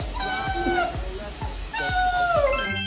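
A border collie gives two drawn-out, wavering howls, each sliding downward in pitch, close and fairly loud over background noise.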